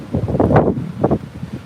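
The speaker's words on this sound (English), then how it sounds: "the wind's blowing this everywhere" Wind gusts outdoors at a backyard beehive setup, buffeting the microphone in two loud rushing swells with a low rumble between them.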